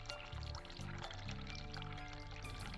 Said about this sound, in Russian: Включить горячую воду.